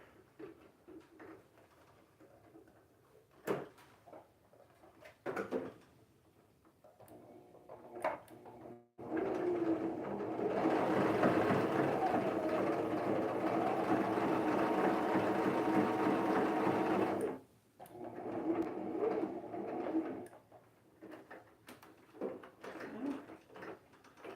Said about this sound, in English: Time for a new sewing machine.